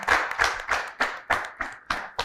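Audience members at a discussion on brain drain in Africa clap in a slow, steady rhythm, about eight distinct claps evenly spaced and fairly close.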